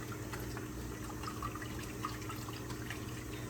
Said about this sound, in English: throw your sponge down and we'll just wash it off.